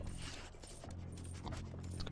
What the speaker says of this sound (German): Der Köter hier bei mir wieder.